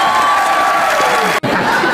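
Studio audience at a comedy talk show bursting into applause and cheering, a loud, dense crowd roar with whoops, broken by a brief sharp cut partway through before resuming.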